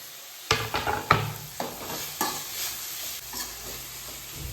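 Mint and spices sizzle in a pan for chicken curry while a spoon scrapes and stirs in several sharp strokes, close and fairly loud, with no talking.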